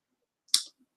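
A single sharp mouse click, close and crisp, clicking in an email compose window, isolated in near silence.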